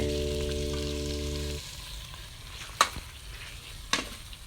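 Pork dropped into a pan of simmering coconut milk curry for a Thai red curry, giving a steady close sizzle after a steady tonal hum cuts out, with two sharp clinks of a utensil against the pan.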